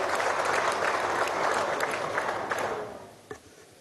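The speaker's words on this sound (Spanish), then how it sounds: "Nuestro abrazo y nuestro aplauso." Applause in Venezuela's National Assembly, during a session where the 2023 budget is presented, swells as a dense roar of clapping before thinning out after about three seconds, leaving a few scattered claps.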